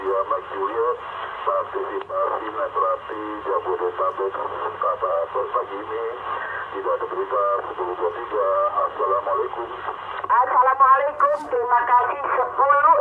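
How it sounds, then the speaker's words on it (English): Anytone Ares II CB radio carrying a transmission with noise reduction switched on: a voice comes through the band-limited radio channel, talking steadily throughout over a faint low hum, louder and choppier near the end. "Isn't it cool for CB radio with noise reduction?"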